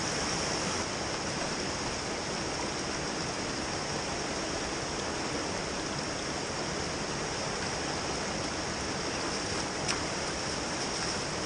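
Water rushes steadily through a gold panning sluice, a dense, even hiss and roar that holds at the same level throughout with no voices, like a strong stream flowing close by.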